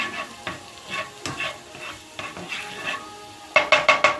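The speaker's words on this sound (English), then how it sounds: "as you can see, I'm sauteing my garlic" Garlic sautés in a pan with a soft sizzle beneath rhythmic scraping stir strokes, ending in a quick run of four sharp metallic taps of a utensil on the pan.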